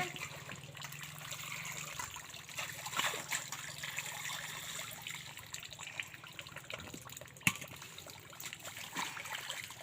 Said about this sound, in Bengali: লঙ্কাটা ধুয়ে নিই